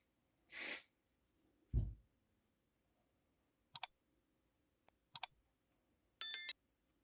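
DeoxIT contact cleaner is sprayed into a 1982 Realistic Weatheradio 12-181 control, one short close hiss, followed by a low thump and a few faint clicks and brief rattles from working the control.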